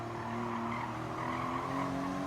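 Porsche flat-six engine in Gran Turismo 7, a steady, sustained droning howl held at constant pitch for about two seconds, loud and alone without talk.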